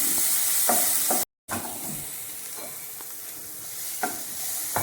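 Onions sizzling in a pan while being stirred, a steady frying hiss with several soft scraping strokes of a spoon, close by, cut by a brief silent gap partway through, and no voices.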